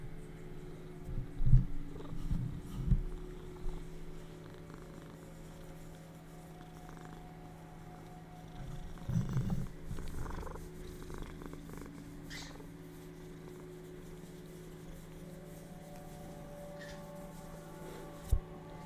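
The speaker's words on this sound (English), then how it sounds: "It's too loud for you to hear the purring." A cat purrs softly and continuously close by, a faint low rumble with a few brief louder bumps and rustles.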